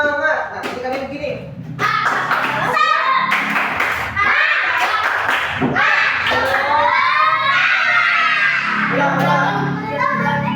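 A classroom of children performs a 'tepuk semangat' clapping chant, sharp rhythmic claps mixed with shouted, chanted voices, loud and close, with a teacher's voice among them.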